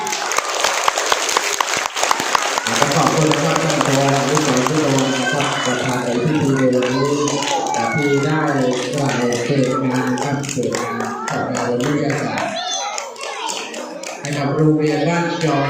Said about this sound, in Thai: ขอเสียงปรบมือเลยครับ